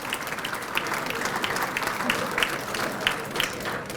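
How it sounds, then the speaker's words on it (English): Steady applause from the dinner audience at a hall of fame ceremony, a dense wash of clapping throughout, fairly close and even in level. "Please give a big round of applause for fine folks at Sodexo."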